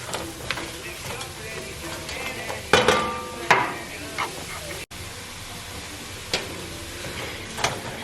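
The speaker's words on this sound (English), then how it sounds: "you just want to stir that around, and you want it to catch all of this goodness" Vegetables and celery are stirred into beef stew in a Dutch oven, giving scattered scrapes and knocks of a utensil over a soft sizzle. Several sharper clanks stand out partway through.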